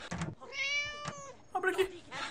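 In the video game Scary Teacher, a kitten gives a clear, drawn-out meow at moderate loudness, set between short bursts of a person talking.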